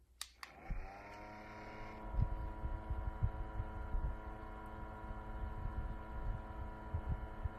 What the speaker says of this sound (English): So here it is on low speed on the previous generation fan.